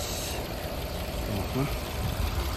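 A 2.5-liter gasoline engine in a seven-seater four-wheel-drive idles steadily with a low, even hum, while a voice talks over it throughout.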